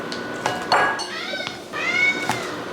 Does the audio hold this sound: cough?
no